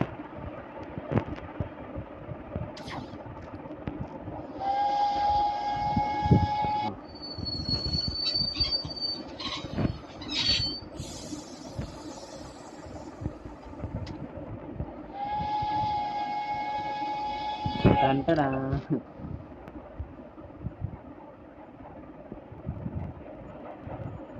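A train in the video game Nextbot rumbles past with drawn-out whistle blasts and screeching wheels, loud and near, set against a steady mechanical background.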